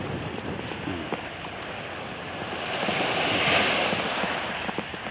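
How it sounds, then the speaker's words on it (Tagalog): Strong wind roars steadily across the microphone beside the sea with ships offshore, after a typhoon, with a broad rushing hiss that swells louder midway before easing slightly. "Hangin lamang malakas."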